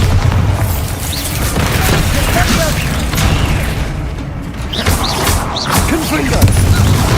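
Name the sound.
Bombarda explosion spell in Hogwarts Legacy video game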